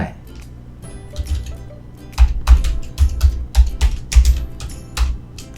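Text typed on a computer keyboard during a slide animation tutorial: irregular bursts of close, crisp key taps, heaviest in the middle, with distinct thumps, and no voice.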